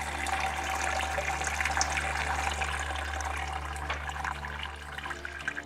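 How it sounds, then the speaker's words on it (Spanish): Car battery acid pours through a filter into a container in a steady, continuous stream of liquid splashing, heard close and alone for several seconds. "Y voy a filtrar el ácido."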